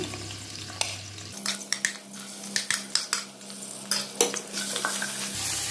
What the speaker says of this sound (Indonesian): Di sini bawang merah dan bawang putihnya sudah saya haluskan. Kita goreng.